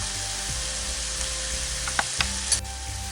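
Ground spices such as cumin and coriander powder sizzle in a pan for prawn malai curry, a constant close hiss broken by a few small utensil clicks, with no voices.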